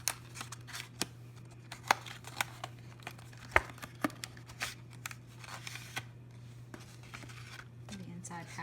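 Plastic and cardboard packaging for an Invisible Shield HD glass screen protector for the iPhone 6S crinkles and taps as it is opened, with scattered sharp clicks and rustles over a steady low hum.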